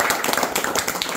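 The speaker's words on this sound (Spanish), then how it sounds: "¡Aplausos!" Audience clapping rises in a steady, dense patter, fairly close and moderately loud, with no talk over it.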